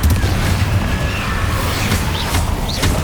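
Fiery Confringo blasting-spell explosions in the Hogwarts Legacy video game crackle and boom in quick bursts, with whooshing streaks of magic layered over a dense, loud rumble of combat noise.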